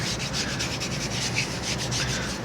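Steady dry rubbing of a cloth over a flame maple guitar top stained black with Transtint dye, a continuous close scrubbing texture with soft repeated strokes and no voices.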